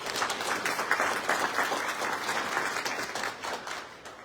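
Audience applause at a Houston, Texas press event, a sustained burst of many hands clapping that stays fairly even and then tapers slightly toward the end, moderately distant with no speech.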